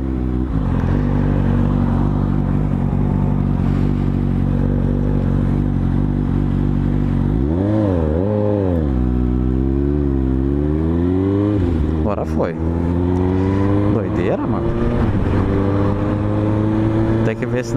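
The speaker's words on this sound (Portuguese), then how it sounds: "você precisa ligar a moto rápido, né?" Suzuki GSX-S750 motorcycle engine running loudly up close, a steady idle that rises and falls through several revs midway before settling back to idle.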